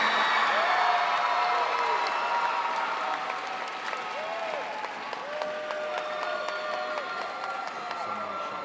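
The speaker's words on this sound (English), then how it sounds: "please give another huge round of applause to the future in agriscience and our star in agriscience finalists" Audience applause fills a convention hall at a state agriscience awards session, steady and dense, with a few scattered cheers and whoops and faint background tones running underneath.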